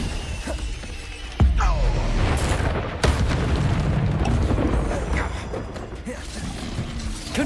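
Spell blasts and explosions burst out during a Hogwarts Legacy battle: a sharp boom near 1.4 s and another crack at 3 s, with continuous rumbling magic impacts and clatter in between, loud and close.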